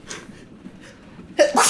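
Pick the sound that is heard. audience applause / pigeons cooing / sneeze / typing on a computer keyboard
sneeze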